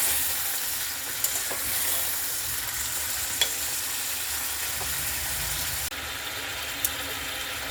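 Mutton for biryani sizzles and fries in a pan while being sautéed, a steady hissing crackle throughout with occasional faint clinks of stirring, fairly quiet and without talking.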